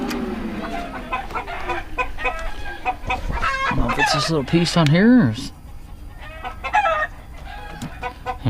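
A flock of farm chickens clucks and squawks excitedly, with a rooster crowing loudly near the middle, close and busy, while someone talks over the birds.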